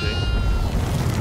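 A goat in the horror game Devour gives a short, close bleat with a wavering, nasal tone, set over a low rumbling game background.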